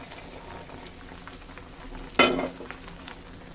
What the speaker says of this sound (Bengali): ফোড়নটা দিয়ে দিলাম।